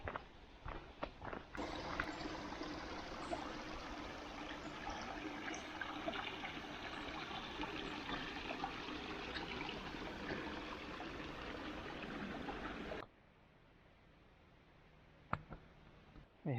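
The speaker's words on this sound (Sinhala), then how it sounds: "පොඩි දොළ පාරක් තියෙනවා." A small stream flowing beside a hiking trail, with a steady broad rush of running water close by that stops abruptly near the end, leaving quieter ambient sound.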